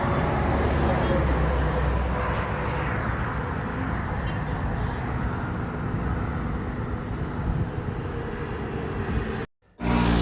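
Heavy road traffic fills a Tehran highway with a dense, continuous roar of passing cars and larger vehicles, loud and close, before cutting off abruptly near the end.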